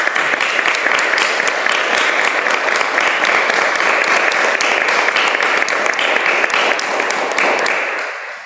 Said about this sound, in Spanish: Sin duda, merecedor aplauso, como siempre, Pepe.